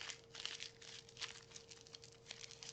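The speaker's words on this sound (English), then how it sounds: "take that wax paper and you're going to crumple it up." Wax paper crumpled up by hand for a resist technique, giving a run of soft crinkling and crackling bursts close by, with a steady faint tone underneath and no talk.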